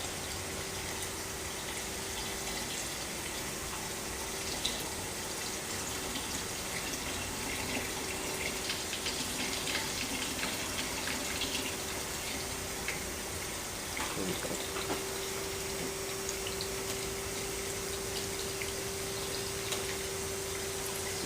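Water pours steadily into diesel fuel with a continuous trickling gush that runs through the whole stretch, over a constant low machine hum, with no speech.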